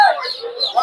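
Chickens cluck and call in a brief, fairly loud burst at a busy poultry and bird market where turkeys and white chickens are sold.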